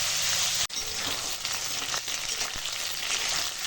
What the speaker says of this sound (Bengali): কেটে রাখা আলু দিয়ে একটু আলুটা ফোড়নের সঙ্গে ভালো করে একটু ভেজে নেবো